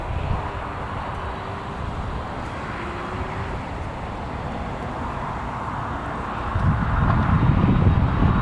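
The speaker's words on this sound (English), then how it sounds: "British Airways is on the move" A British Airways airliner moves at Newcastle Airport, heard as a steady distant engine rumble and whine through wind noise, growing louder and rougher toward the end.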